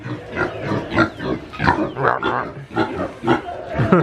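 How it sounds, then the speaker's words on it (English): Pigs at the Maryland Zoo give repeated grunts and snorts in an uneven rhythm, fairly loud and close, with faint voices of visitors mixed in. "Oh, they even have pigs!"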